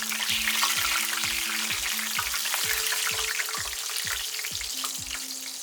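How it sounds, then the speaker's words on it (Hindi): Coconut and curry leaves frying in hot oil for murmura chivda, a steady dense sizzle and crackle that holds even throughout, with a low rhythmic mechanical thump repeating underneath and no talking. "ये जो कड़ी पत्ता है उसे भी मैं फ्राई कर दूँ"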